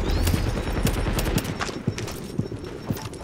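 Gunfire in The Division co-op shooter on PS4: several sharp sniper-style shots at roughly half-second intervals, loud and punchy over a dense bed of game noise, with no talking.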